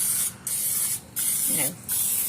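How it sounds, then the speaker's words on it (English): Canola cooking spray hisses onto a cupcake pan in three short, loud bursts separated by brief pauses, with a faint voice murmuring during one gap. "if I do not spray my pan, they will stick"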